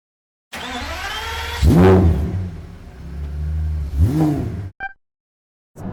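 A Pagani Zonda supercar engine in Tokyo roars through two loud, rising acceleration runs with sweeping revs, separated by a steadier rumble, then cuts off abruptly; no talking.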